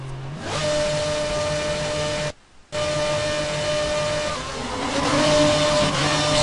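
Race car engines roar together at the start of a lap at Istanbul Park, Turkey, in a racing video game, a dense steady drone that cuts out briefly, then resumes and swells louder as the cars accelerate.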